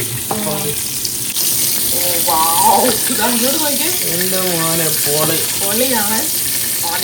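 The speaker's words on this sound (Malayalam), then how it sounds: "ഈ ബട്ടർ ഇങ്ങനെ കോരി ഇതിൻ്റെ മുകളിലോട്ട് ഒഴിച്ചു കൊടുക്കണം" Steak sizzles loudly and steadily in a pan while butter is spooned over it, with a voice talking over the crackling.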